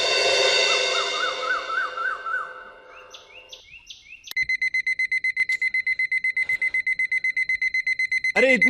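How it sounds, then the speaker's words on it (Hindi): Alarm clock ringing early in the morning, a loud, rapid repeating electronic beep that starts abruptly after birdsong-like chirps and music, continuing for several seconds. "अरे इतनी सुबह का अलार्म किसने लगाया है?"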